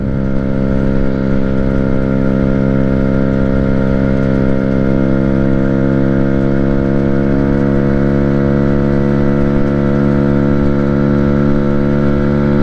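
Small 50cc engine of an Amstar Nostalgia scooter droning at high, steady revs while riding, a loud, constant buzzing whine with wind noise and no talk.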